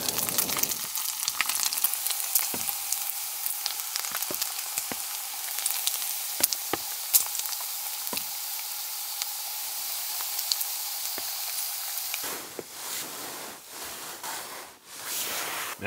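Bacon frying in a pan at a rainy wilderness campsite, a steady close hiss and crackle with scattered sharp pops, easing into softer rustling and handling near the end.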